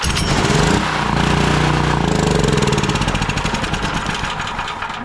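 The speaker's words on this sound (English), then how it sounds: "fires right up on the starting fluid and dies back out" A Predator 420cc engine on a 6500-watt generator catches on starting fluid and runs roughly and loud, its uneven pulsing firing slowing and thinning toward the end as it dies back out.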